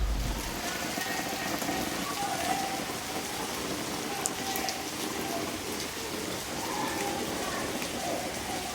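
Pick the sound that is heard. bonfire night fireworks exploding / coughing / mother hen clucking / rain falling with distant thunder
rain falling with distant thunder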